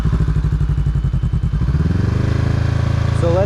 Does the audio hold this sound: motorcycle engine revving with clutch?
yes